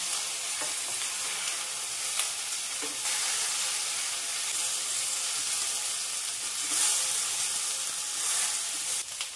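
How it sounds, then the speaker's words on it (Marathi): Cabbage-spinach vadi are gently turned in a hot mustard-cumin-curry leaf tempering, a continuous close sizzle broken by occasional soft scrapes and clinks of the spatula, with no one speaking. "फोडणीमध्ये ह्या वड्या देखील अलगद वर खाली करून घ्यायच्या।"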